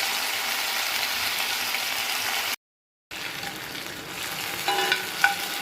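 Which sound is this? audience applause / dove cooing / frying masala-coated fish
frying masala-coated fish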